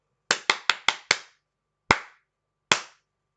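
Hands clap out a crisp rhythm in an otherwise silent room: five quick even claps, then a pause, one clap, another pause and a final clap, each sharp and close with a short ring.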